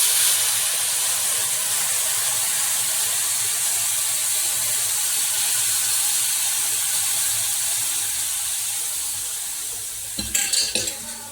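Boiled jaggery poured into hot vermicelli roasted in ghee hisses and sizzles in a steady, bright wash that slowly fades, ending with a few clinks and scrapes near the close; no talking.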